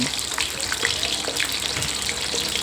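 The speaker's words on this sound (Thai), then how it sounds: "ทอดไปเรื่อยๆ เลยค่ะ" Steamed mackerel frying gently in oil over low heat gives a steady, close crackling sizzle with fine popping spatters throughout.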